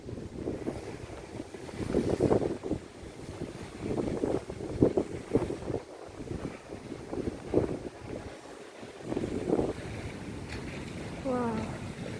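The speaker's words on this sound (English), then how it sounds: "it's very windy here because this located near river, Saigon River, so very windy" Strong gusts near the Saigon River in Ho Chi Minh City buffet the microphone in uneven surges, with rushing air and a low rumble throughout; a voice speaks briefly under the wind.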